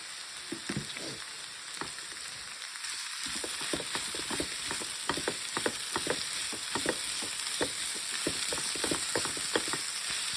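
Sliced onions sauté in hot oil in a pan for a chicken dum biryani masala, giving a steady soft sizzle punctuated by frequent sharp crackles and pops, fairly quiet and close, with no talking.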